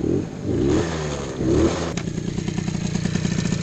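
A 70cc GP1 racing scooter engine with a stock 17.5 carburetor and enlarged jet revs up loudly twice close by, rising and falling sharply, then settles into a rapid, rattling idle.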